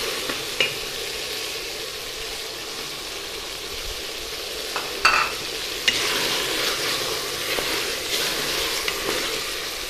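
Cumin seeds sizzle in hot oil in a pot for vegetable palao, a steady frying hiss with a few soft stirring clinks and light crackles, no voices.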